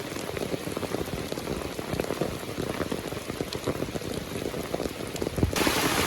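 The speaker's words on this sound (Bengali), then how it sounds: "আকাশ মেঘলা করে সকাল থেকে বৃষ্টি হচ্ছে" Rain falls steadily from an overcast sky in a flooded village, a continuous patter and hiss of drops on surfaces that swells slightly brighter near the end, with no one speaking.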